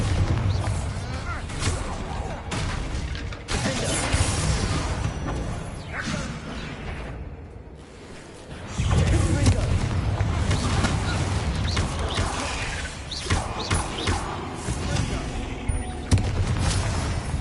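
Bombarda spell blasts go off in Hogwarts Legacy during a fight with spiders, heavy booms and crackling impacts repeating over continuous game sound, with a brief lull before the clamour picks up again.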